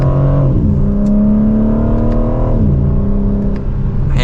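A 2025 BMW M4 Competition engine revs up in manual mode from second gear, its note climbing steadily, dropping briefly on a shift, then rising again, loud and close, with no talking.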